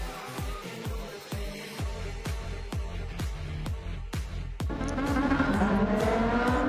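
A small race car lapping the Nürburgring circuit, heard from onboard as a steady engine drone punctuated by a regular series of sharp thumps, growing louder and denser toward the end, with no talking.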